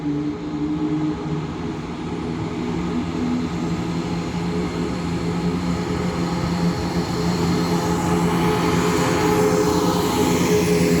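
Loud East Midlands Railway class 170 502 diesel unit departing Stoke-on-Trent, a steady droning engine roar with layered tonal hum that holds continuous and close, without any talk.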